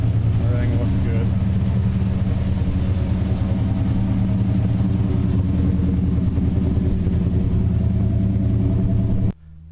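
A 1968 Dodge Charger V8 idles loud and steady up close, a constant low rumble that cuts off abruptly near the end.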